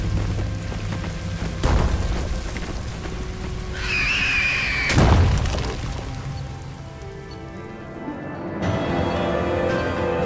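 Bombs exploding after being shot in Mass Effect 2 combat: two loud booms with crackling debris, close and heavy, over a dense game soundscape.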